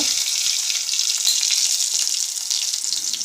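Garlic, turmeric and asafoetida sizzle in hot oil in a pan while bitter gourd sabzi is cooked, a steady bright crackling hiss throughout, close and continuous with no talking.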